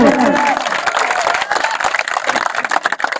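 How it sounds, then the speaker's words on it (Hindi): A crowd at a village cricket tournament applauds the team captain, loud scattered clapping with some cheering and an announcer's voice over the start, thinning into uneven claps. "सभी जोरदार तालियां बजाएं"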